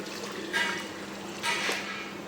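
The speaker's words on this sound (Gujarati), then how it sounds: "હવે આપણે એડ કરી દઈએ પાણી." Water is poured into a cooking pot of vegetable biryani in two short splashing bursts, each about a second long, close to the microphone over a steady low background.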